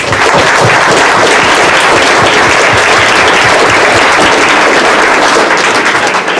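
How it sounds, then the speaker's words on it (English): An audience gives a round of applause for a speaker's supporters, dense continuous clapping filling the whole stretch, loud and close without pause. "I think we should give them a round of applause"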